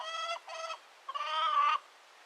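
Chickens squabble at close range in three quick bursts of harsh, nasal clucking and squawking, the last burst longest and loudest, separated by short pauses of quiet.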